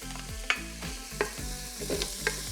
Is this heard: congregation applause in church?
no